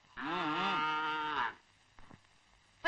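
A single cow moos loudly and close by in one long, wavering call of over a second, followed by faint thumps and quiet background noise.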